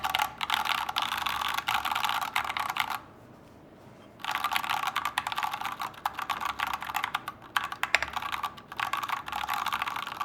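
Fast, steady typing on a Rexus Daxa tray-mount aluminium keyboard with Gateron Yellow switches and XDA keycaps gives dense, close key clacks that pause for about a second midway, then resume, with no talking.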